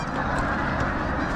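A large flock of geese honks all around, a dense continuous clamour of overlapping calls, loud and close, with no talk.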